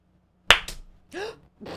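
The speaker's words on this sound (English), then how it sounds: "you clapped together and it scared me" Two loud, close claps from a small group of people clapping on cue, slightly out of sync, followed by brief talking and laughter in a quiet room.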